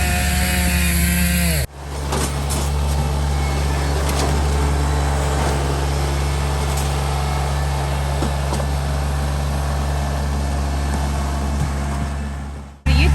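A Stihl MS661 R CM chainsaw with a 32-inch bar roars loudly and steadily for about eleven seconds, cutting into a large piece of wood, then abruptly stops.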